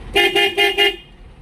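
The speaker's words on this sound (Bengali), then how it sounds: "হর্ন দাও" A car horn sounds four short, loud beeps in quick succession close by, then stops.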